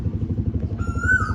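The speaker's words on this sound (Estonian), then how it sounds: "Ja mul lemmik mootorratas tuli." A motorcycle putters past on a Maldives island street, a low throbbing engine pulse close by, with a brief higher whine rising near the end.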